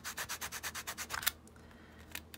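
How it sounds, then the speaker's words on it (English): A hand sanding block rubs briskly back and forth across a cardboard junk journal box, about ten rhythmic scratchy strokes close up, then a pause with a few lighter scrapes. "just give it a quick sand down there"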